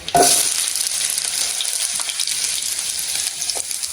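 Sliced onion dropped into hot oil with mustard seeds and dry red chillies, a loud burst of sizzle at the start that settles into a steady close frying hiss with occasional stirring scrapes.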